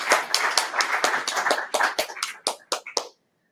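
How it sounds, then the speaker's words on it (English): A conference audience applauds two session speakers: a brisk burst of clapping from a modest crowd that thins into a few scattered claps and stops abruptly after about three seconds. "A round of applause for both of our speakers."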